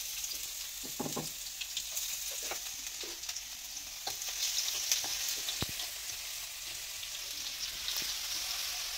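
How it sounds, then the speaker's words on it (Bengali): Chopped garlic frying in hot oil in a karahi, a soft, steady sizzle with occasional spatters and a few clinks of a utensil, fairly faint and close. "আমি তেলের মধ্যে দিয়েছি রসুন কুচি"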